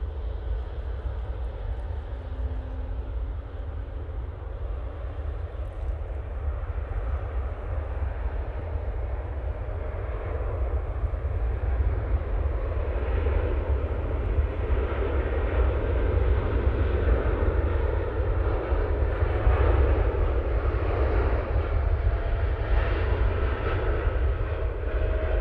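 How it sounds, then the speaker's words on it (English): TUI Boeing 787-9 Dreamliner taking off from Manchester Airport for Punta Cana, a sustained low engine rumble and roar that swells gradually toward the middle and stays strong, with no voices over it. "TUI now off to Punta Cana using their 787-9 Dreamliner."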